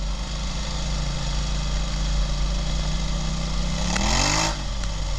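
Engine of a 500 off-road vehicle on a muddy test ride, a steady loud drone running throughout with a rising rev near the end, close and continuous with no talk.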